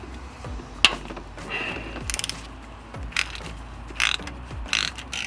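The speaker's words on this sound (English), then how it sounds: "Let's just loosen that, and as you can see, the pulley is now going down, the tensioner." Ratchet clicking while the belt tensioner is loosened on a Nissan 350Z engine, alternator side, in bursts of sharp metallic pawl clicks with pauses between strokes, close and fairly loud, no talk.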